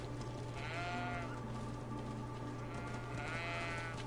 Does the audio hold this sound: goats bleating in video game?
yes